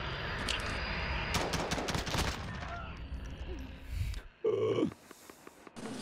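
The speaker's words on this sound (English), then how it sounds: "He's free firing." Gunfire in a Modern Warfare GameBattles match, a player free firing in B alley; rapid bursts of close, loud shots in the first seconds, then scattered sharper pops and game sounds.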